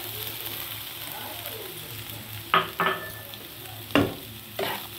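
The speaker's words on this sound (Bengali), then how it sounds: "এবার সুজিটার সঙ্গে ভালো করে মিশিয়ে একটু ভাজা ভাজা করব" Vegetables and semolina sizzle in a pan under a soft frying hiss, punctuated by a few sharp spoon-against-pan scrapes and knocks as the mixture is stirred, close by.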